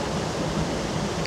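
Trusetal waterfall pours in a steady, full rush of falling water, a dense even roar with no voices over it.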